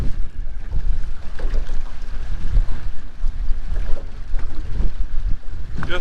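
Strong 17 to 20 mph wind buffets a fishing boat on Mark Twain Lake, with loud, continuous rumbling gusts and microphone wind noise, water slapping faintly underneath, no talk.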